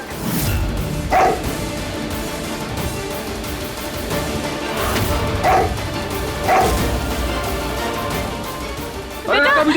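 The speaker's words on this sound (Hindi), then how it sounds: "ये पड़ोसा कुत्ता यहाँ कैसे आ गया?" A neighbour's dog inside a house, giving several short barks and yelps spaced through the scene, mixed with background voices and drama sound.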